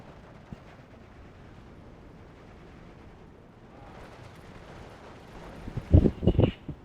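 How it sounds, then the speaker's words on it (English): Mortar rounds from a strategy war game land in a short cluster of booming explosions near the end, after several seconds of low ambient battlefield rumble. "Mortar is trying to soften up the infantry over here."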